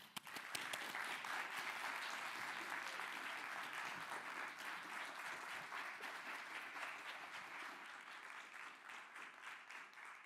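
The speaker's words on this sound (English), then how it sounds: "Let's give a warm, loud applause for Dr." A TEDx audience at a college event gives sustained, steady applause for a speaker taking the stage, a dense wash of clapping that holds for about ten seconds and eases slightly toward the end.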